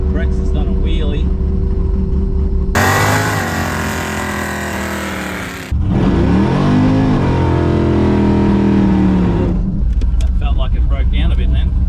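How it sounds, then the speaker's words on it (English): A supercharged Holden VL Calais does a burnout, its engine roaring at high revs in two long sustained bursts with tyre squeal, loud and close, with people talking before and after. "Doing another burnout."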